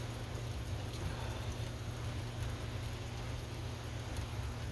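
Steady rain falls during an outdoor fiber splicing job at a GPON network outage, a constant hiss over a low steady hum, with no voices.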